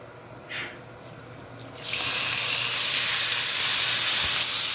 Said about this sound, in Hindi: ये ऑयल गर्म होगा तो इसमें मैं चिकन ऐड कर दूंगी।